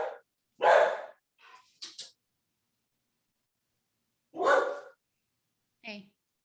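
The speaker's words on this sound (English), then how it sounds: "Dogs going dogs." A dog indoors barks in a few sharp, separate bursts with quiet gaps between them, close and moderately loud, alongside brief breathy sounds.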